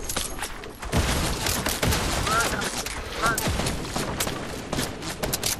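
Gunfire in the video game Fortnite, a dense fusillade of rapid shots crackling throughout, with a voice talking over it.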